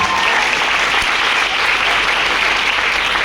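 A seminar audience on an income plan breaks into steady applause, a dense, even wash of many hands clapping at close range for the full stretch with no talk over it.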